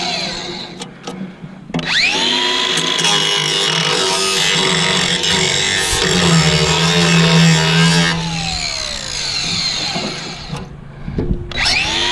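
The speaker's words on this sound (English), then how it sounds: "I think we need the grinder. Yeah, let's grind it." An angle grinder cuts through scrap metal with a loud, sustained high-pitched whine and screech lasting several seconds, spinning up at the start and winding down near the end amid clanks and handling noises.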